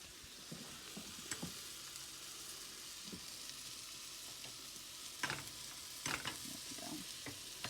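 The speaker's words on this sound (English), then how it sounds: "what I'm going to do now is put some butter in that burner" Butter sizzles steadily in a hot pan on a stove burner, a soft continuous frying hiss with a few louder crackles and spatula scrapes near the end.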